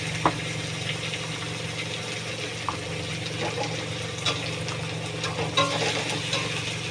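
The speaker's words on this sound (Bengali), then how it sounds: "ব্যাস এবার এটাগুলোকে কষতে থাকবো।" Tomato, green chili, turmeric and cumin powder frying in a pan: a steady sizzle with occasional scraping and tapping from stirring, close and without talk.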